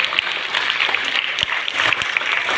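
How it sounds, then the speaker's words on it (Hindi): Steady applause from an audience at a certificate distribution ceremony in Bhilai, honouring the district president, with dense clapping throughout and a few sharper individual claps standing out. "एक बार जोरदार ताली बजा दो"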